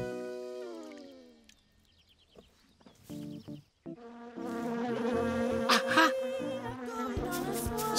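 Buzzing like bees rises in a dense swarm after a quieter stretch of tones and clatter, growing louder and fuller toward the end.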